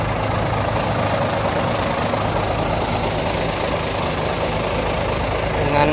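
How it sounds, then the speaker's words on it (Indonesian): A heavy Hino RK bus diesel engine runs continuously with a steady, loud diesel roar and rattle, unchanging throughout. "Menggala perbandingan suara mesin Hino RK"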